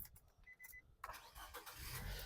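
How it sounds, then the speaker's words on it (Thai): A 2010 Nissan Tiida engine cranks and catches after a few faint clicks, then settles into a steady, fairly quiet idle. "สตาร์ททีเดียวติดนะครับ เครื่องเดินนิ่งเรียบเลยนะครับ"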